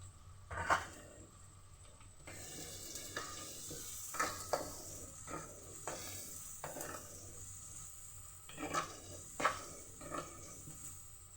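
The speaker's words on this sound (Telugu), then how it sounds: "ఆనియన్స్ ఫ్రై అవుతుంటే పసుపు, కరివేపాకు," Onions frying in a pan with turmeric and curry leaves for gongura chicken, a steady sizzle broken by repeated stirring scrapes of a utensil against the pan at irregular intervals, close and alone without voices.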